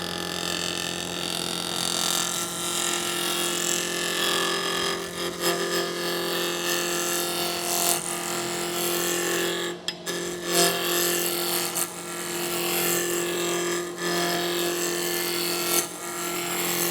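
A roughing gouge cuts a spinning wood blank on a lathe while a cup is being turned. The scraping, rasping noise of the cut runs steadily and fairly loud, with brief dips, and no one speaks.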